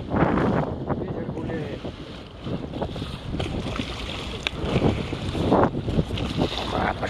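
Wind on the Neva River gusts and buffets the microphone in uneven, breathy bursts, rising and falling throughout, with faint muffled sounds underneath.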